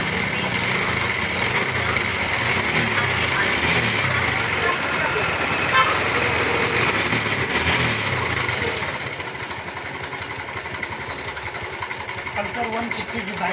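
A Bajaj Pulsar 150 motorcycle engine idling with a timing chain fault, a loud continuous rattling drone held close for the whole stretch, easing slightly in level near the end.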